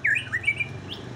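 Young magpie robins give a rapid series of bright chirps and whistled notes, with the strongest calls early and a single later note, all clear above a low steady hum.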